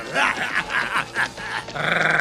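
A cartoon dog, a man turned into a dog by a spell, growls and grunts in short rough bursts close up, ending in a sustained snarl.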